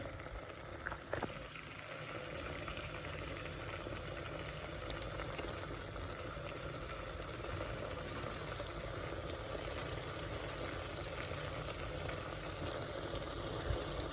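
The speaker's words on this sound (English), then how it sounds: "Adding the leaves of the broad bean, and then they cook together with the green beans." Broad bean leaves simmering together with green beans in a pot, a steady low bubbling and faint sizzle that holds evenly throughout with no talking.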